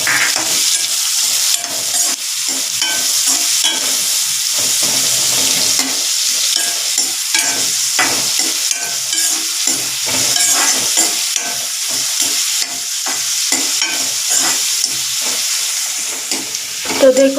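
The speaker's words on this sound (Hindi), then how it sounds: "प्याज को थोड़ा सा ब्राउन होने तक भूनेंगे" Chopped onions sizzle steadily in hot oil while being browned for dry-style bhindi, with a spoon scraping and stirring the pan in frequent rhythmic strokes, close and continuous, no talking.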